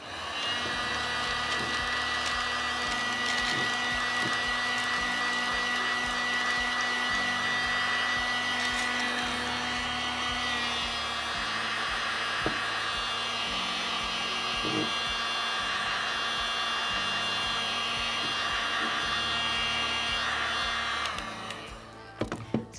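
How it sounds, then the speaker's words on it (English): A heat gun blows steadily while shrinking sublimation shrink wrap film onto a shot glass, a loud continuous whirring roar that runs almost unbroken, its pitch shifting slightly midway before cutting off near the end. "And then I'm going to apply heat to this to shrink it to fit."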